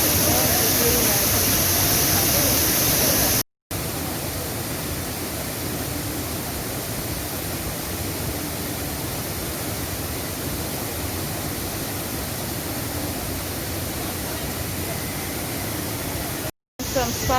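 Rushing water at Annandale Waterfall in Grenada makes a dense, steady broadband roar that fills the whole clip at constant loudness, broken by two brief dropouts, with no voices heard.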